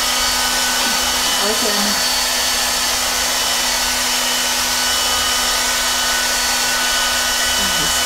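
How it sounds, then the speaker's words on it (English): A hair dryer blows steadily and loudly throughout while hair is dried after a vinegar and conditioner treatment, with a brief word spoken over it. "Mag-blower naman ko. Blower lang siya."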